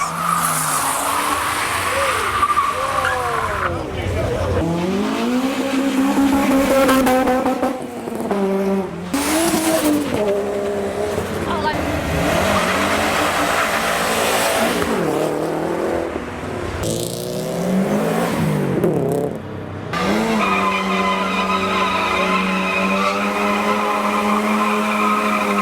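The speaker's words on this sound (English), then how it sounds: "handbrake turns." Cars at a JDM car meet pull handbrake turns, tires skidding and squealing in long, loud bursts while engines rev and rise in pitch, one run after another with no talk.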